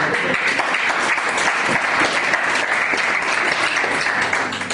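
A church congregation at a retreat applauds the Lord, steady dense clapping filling the room loudly for several seconds without pause.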